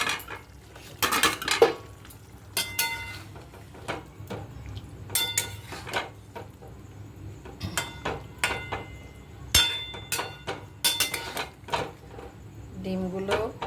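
Eggs go into a simmering potato and papaya curry in a home kitchen, with clinks and knocks of a metal spoon against the pot and scattered utensil taps at close range while someone speaks.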